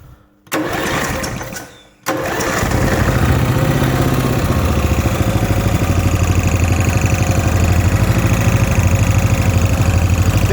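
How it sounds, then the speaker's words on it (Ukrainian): Briggs & Stratton 11 hp single-cylinder lawn mower engine with its air filter removed, cranked and then caught, running at a steady, loud, close idle with a fast even firing rhythm and no talk. "Зараз заведу покажу, як працює."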